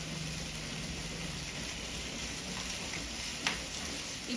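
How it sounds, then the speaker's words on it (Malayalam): Fresh coriander leaves and curry leaves sauté in a hot pan for a tomato chutney, giving a steady close hiss of sizzling oil with one faint stir or scrape. "ഇനി ഇതൊന്ന് നന്നായിട്ടൊന്ന് വഴറ്റാം"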